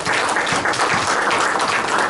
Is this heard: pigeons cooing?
no